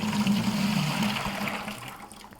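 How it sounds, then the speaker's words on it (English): Water from a kettle, swirled after descaling, is poured out in a steady splashing gush that trickles and fades toward the end, close and alone. "I'm going to give it a little bit of a swirl and dump out our water."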